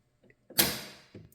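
Car inside door release handle pulled, giving a soft click followed by a sharp latch clunk and a brief rushing swell as the door swings open, close up, then a faint tap at the end.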